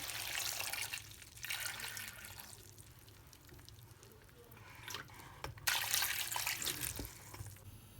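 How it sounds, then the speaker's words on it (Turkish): Water runs from a tap and splashes into a pot of quince pieces as it is filled for quince jam, a steady trickle with louder gushes near the end and no talk. "Ayvaların üzerine geçinceye kadar su ekliyorum."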